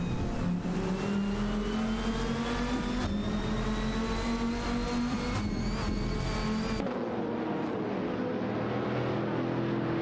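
Race car engines roaring on track in an AI racing video game, a steady loud droning whine with pitch rising through gears, an abrupt change near the end as the sound shifts.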